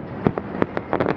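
New Year fireworks over Thessaloniki burst in a quick irregular series of sharp cracks and pops. About eight bursts come in just over a second, some clustered close together, loud against a steady crackling background.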